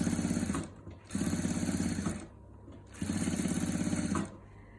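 Sewing machine stitching a 3D pillow with foam filling, running in three bursts of rapid rhythmic needle clatter with short pauses between, close and clear with no talking.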